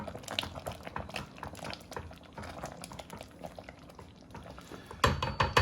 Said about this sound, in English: Just be careful with the splattering when you stir it, so just turn it down even lower.